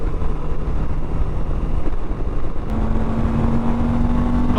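A 2022 Moto Guzzi V85TT motorcycle engine runs steadily at riding speed, its low throb mixed with heavy wind rush over the microphone, and a rising tone enters partway through.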